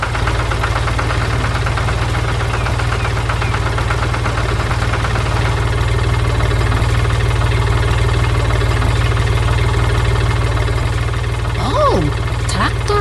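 A blue tractor engine in a green garden drones loud and unbroken, a dense low rumble with a knocking pulse that holds steady from start to finish.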